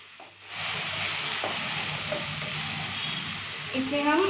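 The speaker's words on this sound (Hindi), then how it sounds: "अब हम इसमें थोड़े से कॉर्न डाल देंगे।" Corn hits a hot pan and sets off a loud, sustained hissing sizzle that holds steady. Faint stirring knocks sound under it, and a voice joins near the end.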